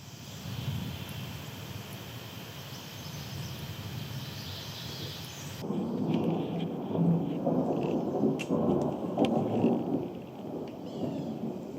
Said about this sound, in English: There's thunder. I don't know if you can hear it.